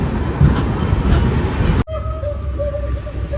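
A passenger train leaves Kochuveli and runs steadily, starting with a loud rumbling roar that cuts abruptly to a quieter cabin hum with faint, repeated clicking.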